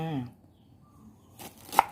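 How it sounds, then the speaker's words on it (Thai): A lime being sliced along its side with a knife in a kitchen, giving a couple of quiet cutting scrapes and one sharp chop near the end, with a faint voice at the very start. "ก่อนอื่นเลยเรามาปาดมะนาวกันค่ะ"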